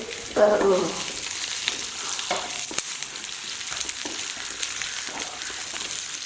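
Coriander and curry leaves roasting in a pan for pepper-cumin rasam, a steady close sizzle with a louder stirring scrape near the start and occasional soft clinks, no talking.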